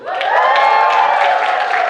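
A stand-up comedy audience breaks into loud, dense applause with some cheering for the comedian's 35th birthday, sustained and close throughout the short burst.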